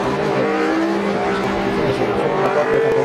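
Historic endurance race cars at the Jerez de la Frontera circuit, engines roaring loudly and continuously as cars pass near, with a commentator talking underneath.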